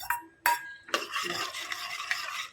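Chopped ridge gourd being stirred in a cooking pot with a metal spoon, a few distinct scraping clinks followed by a steady soft scraping and rustle, close but fairly quiet.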